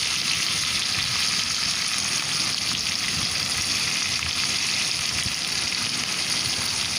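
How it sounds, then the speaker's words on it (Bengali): Chopped garlic and cubed onion sizzle in leftover oil in a wok, a loud, steady, dense frying hiss that continues without a break and without talk. "কড়ার মধ্যে যে অবশিষ্ট তেলটা ছিল তার মধ্যে আমি দিয়ে দিলাম রসুন কুচো, দিয়ে দিচ্ছি কিউব করে রাখা পেঁয়াজগুলোকে।"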